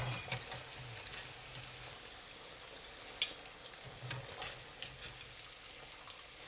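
Squid calamari frying in hot oil, a steady low crackling sizzle with scattered sharp pops and ticks, fairly quiet and constant throughout with no voices.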